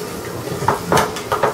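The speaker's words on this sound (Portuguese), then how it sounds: "Eu vou colocar aqui quase uma colher rasa de alho e vou deixar ele fritar um pouquinho assim." Crushed garlic frying in a pot for a potato and chicken soup, a light sizzle punctuated by a few sharp metallic clinks of a utensil against the pot.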